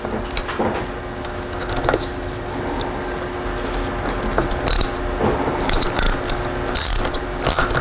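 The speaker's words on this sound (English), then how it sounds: "gonna put a little bit of tension on the arm before I tighten it down" A ratcheting tool tightens the arm clamp of a Luna Lander fat-bike suspension fork on a Sondors electric bike. Close, loud runs of rapid mechanical clicks come in repeated bursts.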